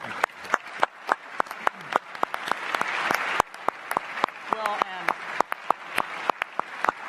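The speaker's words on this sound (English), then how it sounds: "can we give them a round of applause?" Round of applause from the audience at a televised gubernatorial debate at a university, a sustained crowd of clapping with sharp individual claps standing out near the microphone.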